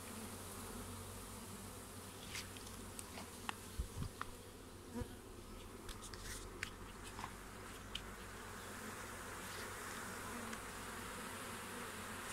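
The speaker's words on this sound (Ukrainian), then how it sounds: "Такий клубок бджіл." A wild swarm of honey bees clustered in a ball on a hive's front wall, buzzing steadily with a dense, continuous hum and occasional louder passes of individual bees flying close by.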